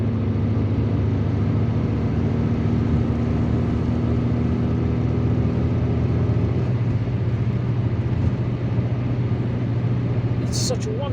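A car drives along a road in Algeria, overtaking other vehicles, its steady engine drone and road noise running continuously and fairly loud, with a brief high chirp near the end and no talk.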